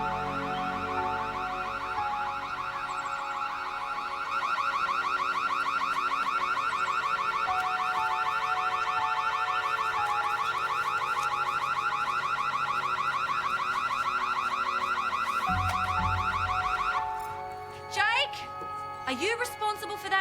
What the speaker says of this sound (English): No, it was my alarm system.